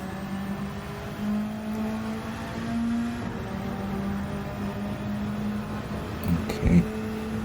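A Toyota Supra GT500 race car engine in a racing video game, on Trial Mountain Circuit near a tunnel, holds a steady droning tone as it accelerates, with a commentator talking over it.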